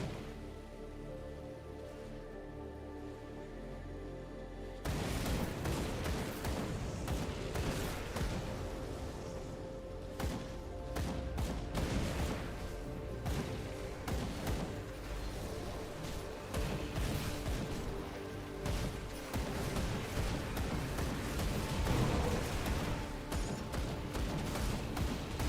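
Pistol gunfire in an open-world video game: quiet at first, then dense, rapid crackling shots continue without break for about twenty seconds.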